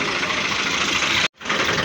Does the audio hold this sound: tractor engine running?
yes